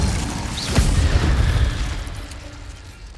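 The Incendio fire spell from Hogwarts Legacy goes off with a deep booming whoosh and a brief crackling burst, a loud roaring rush that fades steadily over a few seconds.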